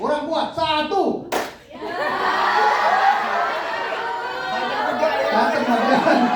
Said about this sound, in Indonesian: Oke, tepuk satu, kurang kuat, satu.